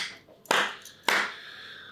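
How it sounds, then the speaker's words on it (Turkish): Two sharp hand claps from a single person, spaced about half a second apart, close and fairly loud, each with a brief ringing tail in a quiet space. "Bir de alkış."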